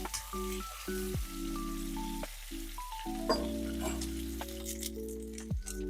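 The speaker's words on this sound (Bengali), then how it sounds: "এবার এঁচড়গুলোকেও আমি একটু লাল লাল করে ভেজে নেব" Pieces of unripe jackfruit fry in hot oil in a pan, a steady crackling sizzle running the whole time beneath a melodic background tune.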